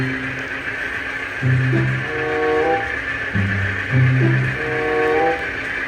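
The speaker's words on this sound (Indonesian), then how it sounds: "kita bisa lihat kereta api Argo Wilis dan juga kereta api kontainer" Argo Wilis passenger train passing on a railway, a steady loud rumble of wheels on track with low tonal swells that rise and fall in repeated waves, with no talk over it.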